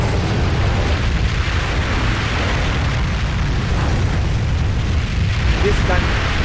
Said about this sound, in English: Everything is destroyed by meteorite collision